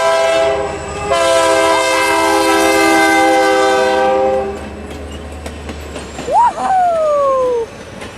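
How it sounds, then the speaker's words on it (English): Great Northern 400 steam locomotive at Union Depot rolls past with a long, loud multi-tone horn blast, followed by rumbling wheels and a rising whistle-like squeal as the train moves on. "There goes that train once again"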